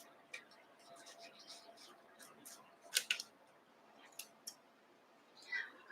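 Sewing snips cutting fabric or thread during quilting give a few quiet, crisp clicks close by, with a cluster of sharp snips near the middle over a faint room background.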